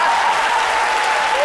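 A studio audience claps loudly and continuously at a French midday TV show, with a dense, full sound and faint voices mixed in.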